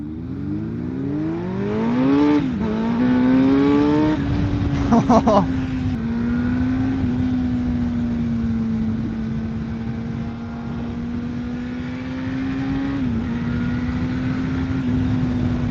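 A Kawasaki ZX-10R sport motorcycle engine drones loudly and continuously while riding, with pitch rising and falling through rev changes and gear shifts, under steady wind rush.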